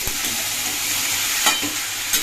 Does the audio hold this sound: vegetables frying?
yes